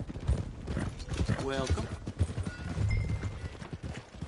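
Horse hooves clip-clop in a video game, a clear rhythmic trotting heard close alongside a brief whinny, with a voice speaking over the steps.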